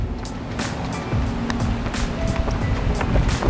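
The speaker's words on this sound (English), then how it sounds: "This wind is gonna hit it too." Wind gusts across an open golf course, a rough, buffeting whoosh with low rumble and scattered ticks, fairly loud and continuous, no voices.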